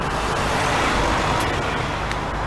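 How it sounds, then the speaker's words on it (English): A van passing along a road, a broad rushing roadway noise that stays loud and close throughout a short pass, with no talking. "Let this van go past first."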